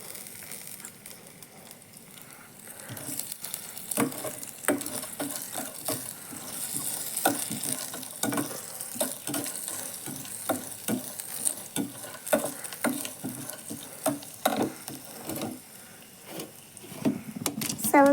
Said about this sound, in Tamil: இப்போ நம்ம கடலைப்பருப்பு, உளுந்து பருப்பு, மிளகு ஜீரகம் சேர்த்து வறுத்துக்கலாம்